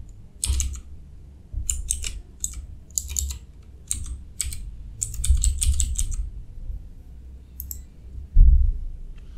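A username and password are typed on a computer keyboard, with close, crisp key clicks in short irregular bursts separated by pauses and a soft low hum behind them.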